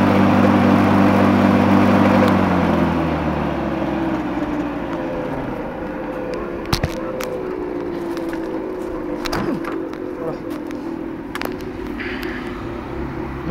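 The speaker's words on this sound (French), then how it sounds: "je sais pas si vous avez entendu le genre de grincement, mais la lame grince beaucoup" A 27-year-old lawn mower engine runs loudly, its pitch winding down after a couple of seconds, while sharp clicks and intermittent high squeaks from the blade break through the steady motor hum.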